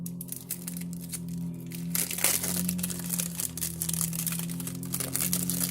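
Plastic packaging crinkles and crackles steadily up close while a mystery box of junk journaling supplies is opened, a dense rustling texture with a constant low hum running underneath.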